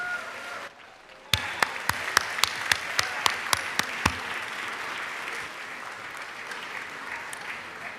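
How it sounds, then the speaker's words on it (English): Applause in a legislative chamber for 4th and 5th grade students: a few sharp separate claps first, then clapping fills in and settles into a steady, moderate round that fades slowly. "Let's give a round of applause for these outstanding students."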